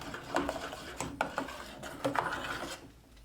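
Cooking spoon stirring banana porridge in a pan on a low stove, soft irregular scrapes and light knocks against the pan, close and quiet.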